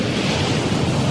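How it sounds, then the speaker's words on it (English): Calming ocean waves from an adaptive sound device wash in a steady, broad roar of surf and a soft wind-like hiss, continuous and fairly loud, with no distinct break between swells. "we have calming waves in the background"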